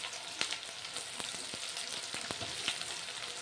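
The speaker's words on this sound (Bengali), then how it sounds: "পেঁয়াজগুলো একটু লাল লাল করে ভেজে নেব" Chopped onions frying in mustard oil for a Bengali crab curry, a steady close crackling sizzle with scattered sharp pops and ticks throughout.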